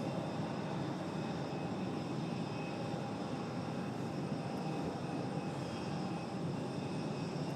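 An airliner's jet engines drone steadily at Raleigh-Durham airport, a continuous moderate roar with faint tonal whine and no break, heard from some distance.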